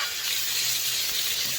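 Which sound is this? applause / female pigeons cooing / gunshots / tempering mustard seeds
tempering mustard seeds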